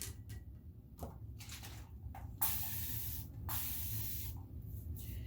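Short hissing bursts from a hair-product spray bottle aimed at the scalp, several separate sprays, with a longer sustained spray in the middle, heard close over a low background hum, with no talking.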